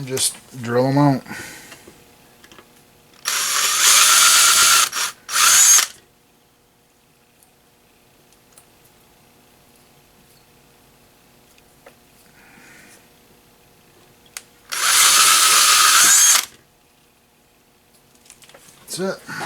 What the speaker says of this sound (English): And just drill them out.